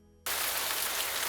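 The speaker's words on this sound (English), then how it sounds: "Now that drizzle is a loud, spattering rain." Loud, steady spattering rain storm as an audio drama effect, bursting in abruptly after a near-silent start and holding as a dense, even wash of drops alone.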